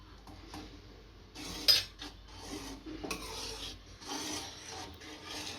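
Saffron-infused milk being stirred into seviyan kheer, a light scraping and rubbing of a spoon against the pot repeating softly over several seconds, with no talking.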